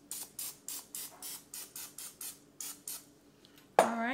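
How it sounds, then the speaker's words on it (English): Canola oil sprayed from a can onto a cupcake pan: about a dozen short, even hissing bursts in a steady rhythm, close and fairly quiet, ending with a sharper clatter. "I'm going to spray it with some canola oil."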